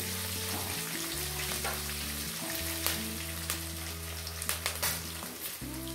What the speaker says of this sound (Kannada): ಇದನ್ನ ಹಾಕ್ಕೊಂಡು 2 ನಿಮಿಷ ಚೆನ್ನಾಗಿ ಇದನ್ನ ಎಣ್ಣೆಯಲ್ಲಿ ಹುರ್ಕೋತಾ ಬರಬೇಕು